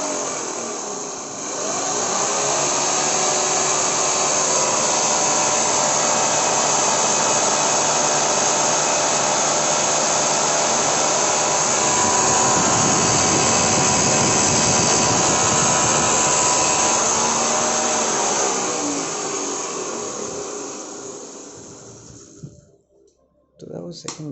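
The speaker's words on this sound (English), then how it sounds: "So that was second gear, reaches at close to 4600 rpm on the motor" A DIY e-bike motor runs in second gear at close to 4600 rpm, making a loud, steady high whine that holds for about twenty seconds and then cuts off.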